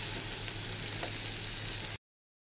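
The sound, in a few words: onion and garlic frying in oil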